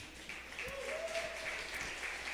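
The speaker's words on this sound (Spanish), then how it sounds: "Denle un aplauso fuerte al Señor" A church congregation applauds the Lord in a steady, continuous wash of clapping heard from a slight distance, with a faint voice briefly rising above it.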